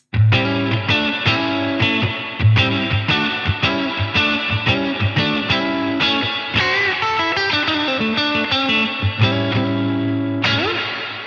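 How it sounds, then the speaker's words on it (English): A clean electric guitar plays chords and picked phrases through the spring reverb of a NUX Atlantic pedal, with decay and level set at noon, each strum trailing a lingering wash, solo without talk. "So we'll start on the reverb side with the spring reverb"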